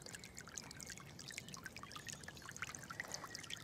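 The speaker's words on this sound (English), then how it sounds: "Very nice, bubbling stream" A small woodland stream of clear water bubbles and trickles steadily, a soft, faint, continuous burble with tiny splashes and no voices.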